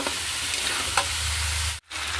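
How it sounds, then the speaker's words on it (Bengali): Chopped potatoes fry in spiced masala with a continuous close sizzle, broken by a few stirring scrapes and a brief pause near the end. "তো দেখুন আলুটা আমার ভাজা ভাজা হয়ে গেছে।"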